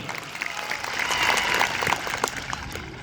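A crowd at an outdoor political rally in Baleshwar, Gujarat, claps loudly and continuously for a few seconds, swelling in the middle before thinning out.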